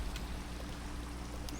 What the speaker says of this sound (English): water that is spraying out in ways it shouldn't